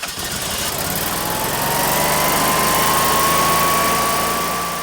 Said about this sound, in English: All right, so the generator runs.